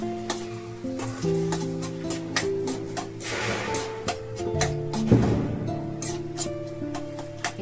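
Masala gravy sizzles while frying in a pan for a festive veg thali, a soft steady hiss with occasional sharp crackles and pops, backed by faint sustained tones.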